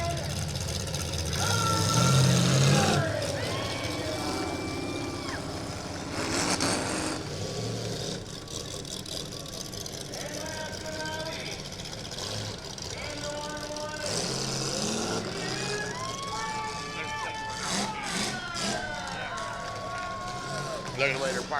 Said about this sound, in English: So Brandon Haller, last one to come out onto the track.